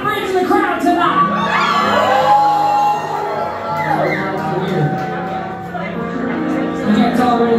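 A concert audience at Felton Music Hall cheers, whoops and shouts loudly and continuously, many voices overlapping in a dense roar that swells and holds for several seconds.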